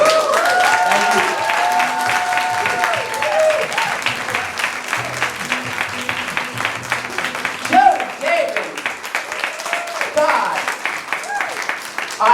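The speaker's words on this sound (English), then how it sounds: "That applause you guys were just doing sounded so good." Stand-up comedy show audience applauding steadily for about twelve seconds, a dense, sustained wash of clapping, with a voice talking over it at times.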